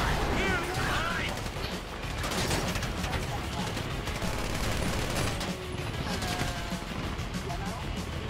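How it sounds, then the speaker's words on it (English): Rapid bursts of Grand Theft Auto V gunfire crackle continuously, dense and loud, with a voice occasionally talking underneath. "You hear that gunfire?"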